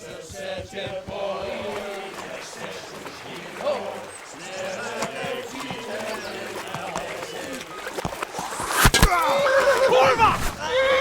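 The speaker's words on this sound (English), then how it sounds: "Catch the horses! They're on the river bank!" A horse neighs amid busy action in the game Kingdom Come: Deliverance, with voices shouting, hooves and scuffling by a river bank, ending in a louder burst of noise.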